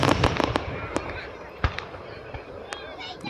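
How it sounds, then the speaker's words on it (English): Fourth of July fireworks with sparkling glitter effects burst in a rapid series of sharp bangs and crackling pops, some loud and close, followed by a lingering fizzing shimmer. "we're just going to watch some fireworks and enjoy it"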